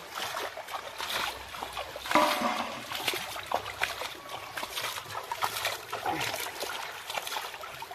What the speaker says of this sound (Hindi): इधर देखिए सेलिना जी अभी चिकन धो रहा है